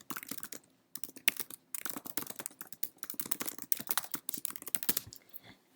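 Quick, steady clicking of a computer keyboard as someone types into a Google Drive document, close and clear, with brief pauses between bursts of keystrokes and no talking.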